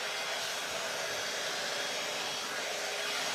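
An AIRess heated hair styling tool blows a steady, even rush of air over dry hair, a close and continuous whoosh with no talking.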